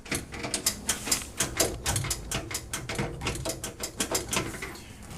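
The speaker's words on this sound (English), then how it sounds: "It should move up and down easily, and you should hear a click." A rapid series of sharp mechanical clicks and rattles from the float switch of a KitchenAid Imperial 21 dishwasher, model KUD121DS2, repeating steadily for several seconds, close up.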